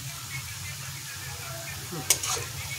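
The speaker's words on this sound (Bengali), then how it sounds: "তো পেঁয়াজটা মোটামুটি ভাজা ভাজা হয়ে গেল।" Onions browning in a pan give off a steady, moderately quiet sizzle, with a brief sharp clatter near the end.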